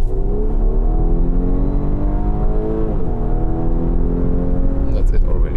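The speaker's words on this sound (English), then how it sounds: "when I'm accelerating now here in the S mode, let's go, for example, 50 to 100." Audi S5 Sportback V6 accelerating hard from 50 to 100 km/h in S mode, heard from the cabin as a loud, steadily rising engine note with a brief dip at a gear change and tyre and road roar beneath.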